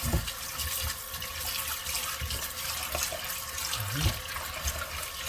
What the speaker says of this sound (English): you're gonna wash off our rice